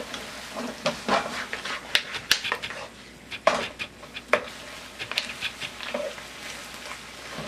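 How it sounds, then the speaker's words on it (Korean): Seafood tomato-sauce spaghetti tossed and stirred in a pan, with a utensil clattering and scraping against metal in irregular strokes over a soft sizzle. "면에도 소스의 간이 잘 배일 수 있도록 볶아줍니다"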